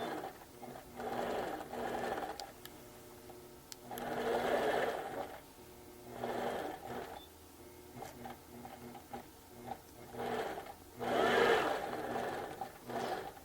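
Sewing machine stitching canvas, its motor running in repeated bursts of a few seconds each, with loud whirring runs separated by quieter pauses, close by and with no talk.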